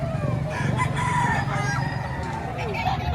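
A rooster crows loudly and close by at a rooster sale, its drawn-out call rising and falling over a low, steady background murmur.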